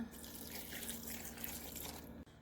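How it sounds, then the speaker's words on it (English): Steady rush of water pouring from a tap into a blender with jerk chicken seasoning, continuous and close, cutting off abruptly at the end. "Now I'm going to go ahead and add a little water and just blend"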